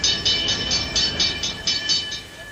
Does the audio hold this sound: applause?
no